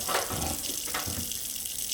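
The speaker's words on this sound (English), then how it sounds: "I think I'm gonna add a little bit of water" Water runs from a kitchen tap into jerk chicken marinade, a steady, fairly loud rushing gush that continues throughout with no talking.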